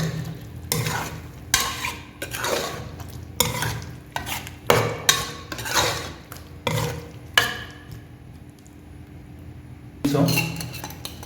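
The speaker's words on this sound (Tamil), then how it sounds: "கலக்கி விட்டுக்கலாம்." Potato and mutton curry with bottle gourd stirred in a pot, with repeated loud scraping and clinking strokes of a utensil over a soft sizzle, then a pause before stirring resumes.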